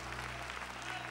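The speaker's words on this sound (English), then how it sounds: "say amen and give God a hand clap of praise" Congregation clapping hands in praise during a church service, a dense, steady wash of applause filling the room without pause and no one speaking over it.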